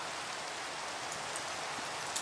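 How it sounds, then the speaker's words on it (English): Steady, fairly faint hiss of rain falling in the Minecraft video game, an even broadband patter with a few brighter drops near the end and no talk. "And the rain has interrupted our video."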